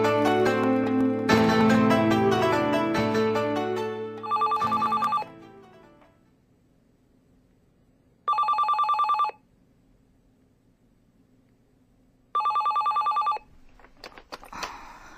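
A telephone rings in three evenly spaced bursts, each clear and fairly loud against near silence, following a stretch of louder musical sound with no talking.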